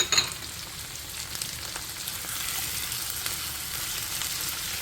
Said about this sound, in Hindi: ठीक है, इसको थोड़ा सा फ्राई करते हैं।